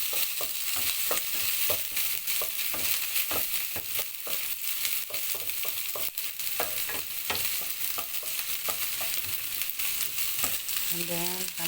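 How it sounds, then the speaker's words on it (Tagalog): Onions fry in a pan with a steady, loud sizzle while a utensil stirs them in repeated scraping strokes, with no talking. "Lalagyan natin ng sibuyas. Halo-haloin. Halo ulit."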